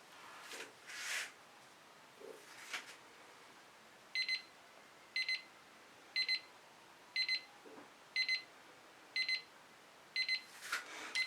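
A timer alarm rings in a steady series of short, high electronic beep bursts about once per second, alone in a quiet room, with a few soft handling rustles before it starts.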